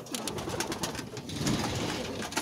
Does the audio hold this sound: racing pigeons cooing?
yes